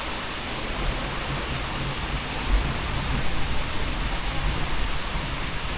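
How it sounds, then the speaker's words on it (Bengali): Heavy rain sweeps down in a dense, even hiss at a forest spot in Kankrajhore, loud and continuous with slight swells, no voices over it. "এই দিকটা বৃষ্টির ঝাঁট আসছে"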